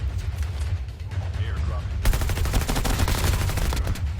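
Rapid automatic gunfire in the mobile shooter Call of Duty Mobile, a dense continuous burst of shots that starts abruptly halfway through and stays loud to the end over steady game background noise.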